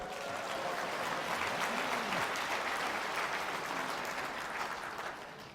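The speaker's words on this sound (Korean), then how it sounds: "박수 해주세요" Steady applause from an audience at a presentation event fills the whole stretch, dense and even, with a faint voice briefly surfacing underneath.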